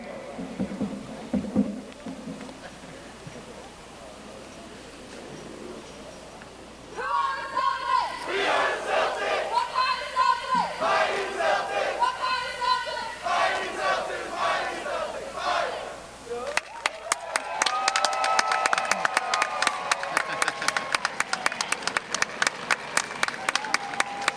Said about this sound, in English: Now let's join together for our final class cheer.